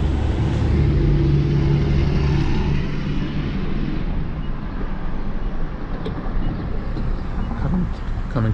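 Car fitted with EMC Aevit hand controls, driven by a quadriplegic C4-C5 driver, idling at a stop while other vehicles pass; a steady low engine and road rumble fills the whole stretch, with a passing-traffic swell early on.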